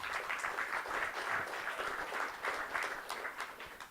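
Audience at an environmental evening event clapping steadily, a faint, distant wash of applause lasting a few seconds with no voices over it.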